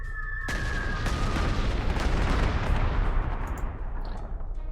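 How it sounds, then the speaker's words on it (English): Bombing attack in the WWII strategy game Panzer Corps, set in 1940 at Sedan: a loud, continuous rumble of explosions and artillery-like blasts rolling on for several seconds with no speech. "Alright, let's bomb this guy."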